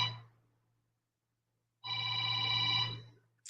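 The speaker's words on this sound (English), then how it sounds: "I'm sorry, hold on, my phone ringing." A phone rings with a bright electronic tone, heard as two separate bursts, a short one at the start and a longer one about a second later, over a steady low hum, with no talking.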